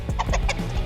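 A hen gives a quick, close cluck, a short burst of a few clipped notes lasting under a second.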